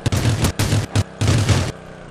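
Rapid bursts of QBU rifle fire in a video game, loud and close, coming in three fast volleys with short gaps before fading to quiet.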